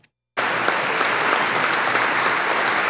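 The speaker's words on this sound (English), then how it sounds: "Applause rang out yesterday in the State House of Representatives as lawmakers honored a former Hazleton official." Applause from lawmakers in the State House of Representatives honoring a former Hazleton official, a sudden full burst of dense clapping after a brief silence that holds steady and loud to the end.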